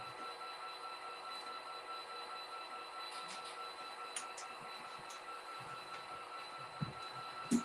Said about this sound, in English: I really love that turbo whine